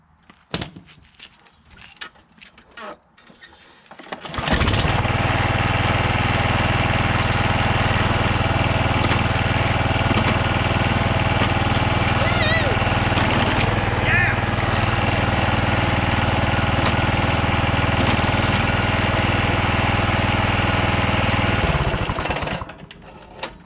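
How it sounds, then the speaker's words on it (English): A John Deere JX75 walk-behind push mower, just fitted with a repaired drive cable, starts after faint handling noises and runs loud and close at a steady roar for nearly twenty seconds before cutting off. "Start it up again and see those back wire, the back tires spin."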